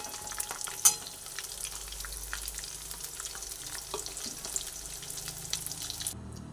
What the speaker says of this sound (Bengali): সবকটাই করে লাল লাল করে ভেজে নিয়ে তুলে নিচ্ছি